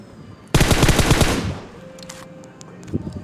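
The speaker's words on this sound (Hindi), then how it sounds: "तो फ़ायर कर रही हूँ, आप लोग को फ़ायर का आवाज़ भी आता होगा" Automatic gunfire in the mobile shooter Battlegrounds Mobile India: a loud, rapid burst of shots lasting about a second, followed by a fading tail and a few faint clicks and game effects.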